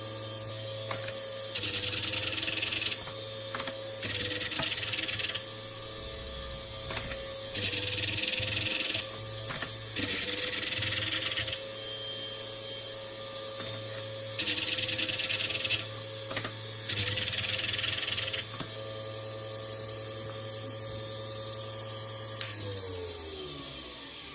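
Steady mechanical whir of a point-splitting grinder with repeated bursts of harsher, higher grinding as a drill bit's front and back sides are pressed against the wheel, winding down at the end.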